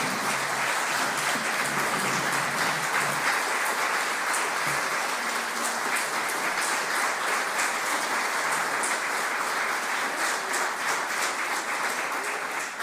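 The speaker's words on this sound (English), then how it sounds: "give them a round of applause" Sustained applause from a large audience at an awards ceremony, dense steady clapping that fills the room at an even level throughout.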